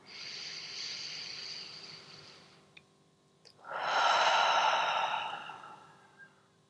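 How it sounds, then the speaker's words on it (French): Two yoga breaths: a long airy inhale through the nose, a brief pause, then a louder, fuller exhale through the mouth, close and quiet with no talking. "Inspire par le nez. Expire par la bouche."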